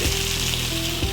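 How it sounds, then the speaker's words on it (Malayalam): Chunks of beef roast fry in hot oil in a pan, giving off a steady, close, dense sizzle that holds evenly with no pauses and no talking. "കുറച്ചും കൂടി നമുക്ക് എണ്ണ ഒഴിക്കാം കേട്ടോ. ഇതിൽ കിടന്നൊന്നും മൊരിയട്ടെ കേട്ടോ"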